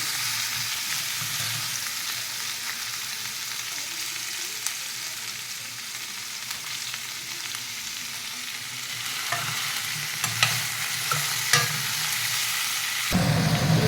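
Ivy gourd sizzling steadily in oil in a pan for chutney, a continuous close frying hiss with occasional stirring clinks and scrapes, rising slightly louder near the end.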